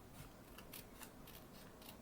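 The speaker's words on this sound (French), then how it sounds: "je vais prendre ma paire de ciseaux et je vais venir couper sur les traits que j'ai fait" Scissors snip along drawn lines, cutting paper strips for a paper fan craft, with faint, quick, evenly spaced snips close by under a steady hiss.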